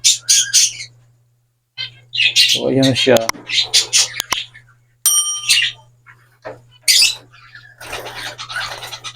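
Society finches chirp and twitter in quick bursts, close by, with a steady low hum underneath and a person talking intermittently between the calls.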